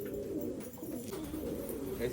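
A white male native domestic pigeon, kept in a coop and suffering from an illness, coos in a steady, low, continuous murmur at moderate volume.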